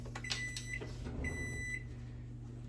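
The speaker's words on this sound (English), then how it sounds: "That beep means my stuff's been roasting for 5 minutes" Two electronic beeps from an appliance, each lasting about half a second with a short gap between, over a steady low background hum.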